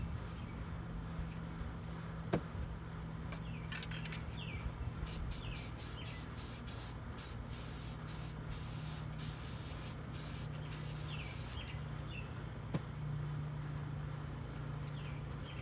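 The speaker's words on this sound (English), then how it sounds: "I'm going to spray the bottom surface with this" A continuous hiss of an aerosol can spraying for several seconds during a Weber 38 carburetor install on a Datsun 620, with faint bird chirps in the background.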